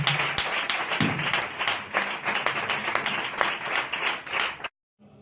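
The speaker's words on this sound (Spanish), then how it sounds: "Dale un fuerte aplauso al Señor." Congregation in a church service gives a strong round of applause to the Lord, many hands clapping loudly and continuously with occasional sharper claps, then cutting abruptly to silence at the end.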